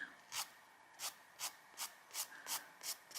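Nail file drawn across a natural fingernail in short single strokes; about eight soft, quiet rasping swipes come at an even rhythm, close up, with no talk.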